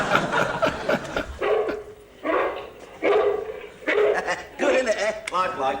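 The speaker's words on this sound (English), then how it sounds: "You naughty dog." A dog barks in a series of bursts, interleaved with people talking and laughing, from a TV sitcom scene.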